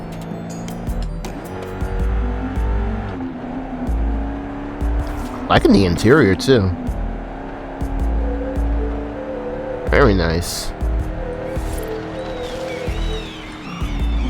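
Cabin view of a 2008 Dodge Magnum SRT-8 engine in the Forza Horizon 5 video game, a low steady drone that rises in two short revving bursts, with someone talking over it.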